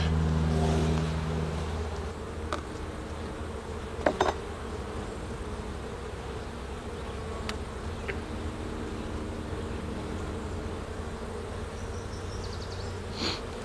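Honeybees swarm around an open hive as frames are lifted out, producing a dense, continuous buzzing drone that holds steady throughout, with a few faint knocks and clicks mixed in.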